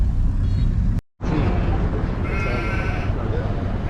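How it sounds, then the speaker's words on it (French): Goats at a goat market in Mauritania bleat in a wavering cry over steady crowd and vehicle noise, with a brief dropout near the start. "Ça, c'était le marché aux chèvres."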